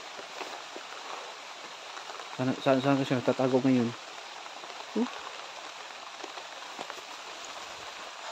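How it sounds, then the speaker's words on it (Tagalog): Steady rain falls on a surface outdoors as a continuous hiss throughout, while someone speaks briefly over it. "Umuulan na."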